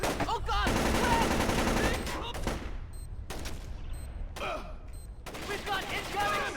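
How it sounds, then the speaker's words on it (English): Dense, rapid bursts of automatic gunfire from the 2005 video game Splinter Cell: Chaos Theory, loud and sustained with brief pauses between volleys and shouted voices mixed in. "We've got incoming shots!"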